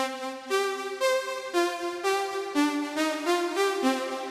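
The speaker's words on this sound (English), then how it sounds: "It's literally just one sawtooth oscillator with a little bit of attack" A bright, buzzy analog synth from a single sawtooth oscillator plays a slow sequence of sustained notes, each swelling in with a soft attack, rich and slightly chorused.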